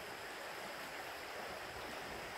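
Kinzua Creek flowing beneath trees along a valley trail, a steady, unbroken rush of moving water, fairly close and alone with no voices or other sounds.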